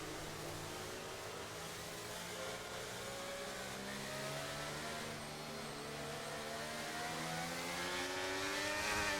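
Race cars in a racing video game accelerating at a safety car restart, their engines droning continuously with rising, layered revving tones that build steadily louder toward the end.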